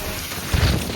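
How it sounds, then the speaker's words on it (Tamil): Rain falls on a hillside trek in Gudalur, pushed by gusting wind: a steady broadband wash with a low windy rumble that swells in the second half of the short stretch. "காத்தடிக்கிறதுனால மழை கம்மியா இருக்குல்ல."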